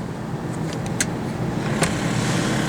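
A 1995 supercharged Toyota Previa van engine idles steadily under the hood with a low, continuous rumble, with a few faint clicks and ticks on top.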